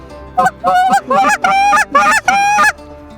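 A Zink NBN goose call is blown hard: a loud, close series of about six sharp, honking goose notes in quick rhythm, imitating Canada geese, with no talking.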